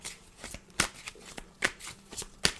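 Tarot cards are shuffled for a card reading, a quiet, close run of soft riffling flicks and crisp snaps at an irregular pace, with no speech.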